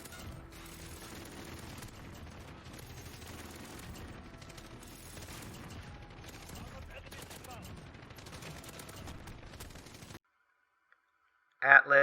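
Sentry guns fire at enemies in Call of Duty: Modern Warfare Survival Mode, a dense continuous rattle of automatic gunfire mixed with game effects for about ten seconds, then near silence and a short sharp burst at the end.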